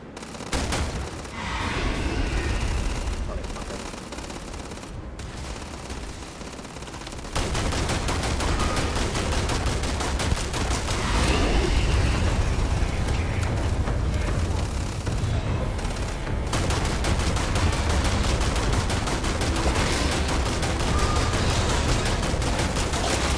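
A magazine being emptied in a Starfield firefight, with dense, continuous bursts of gunfire that grow louder and more sustained partway through, over constant booming combat noise.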